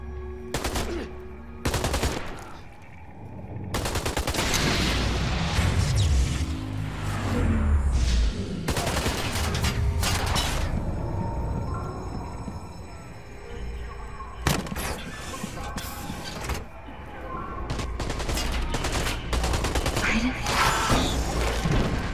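Gunfire and heavy booms from the video game Beyond: Two Souls, bursts of shots and thuds recurring over about twenty seconds amid loud game effects, with some talking at points.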